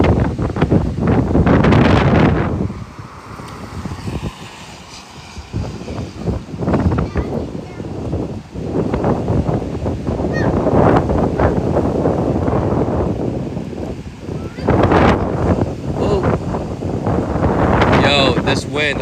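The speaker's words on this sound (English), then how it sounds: "This wind, I'm just stepping out here to feel really the wind is absolutely insanity right now" Strong hurricane wind from Hurricane Helene roars and buffets the microphone in loud, gusting waves with brief lulls, a continuous outdoor rumble that masks most other sound. A voice can be heard faintly at moments.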